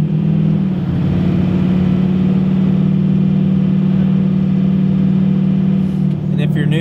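A pickup truck fitted with a swapped-in replacement engine drives steadily down the road, its engine droning at a constant, mid-pitched hum with loud road noise throughout and a brief rattle near the end.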